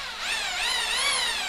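A Bosch drill running in normal drilling mode gives a continuous high whine that rises and wavers in pitch as it spins, loud and close with no talking.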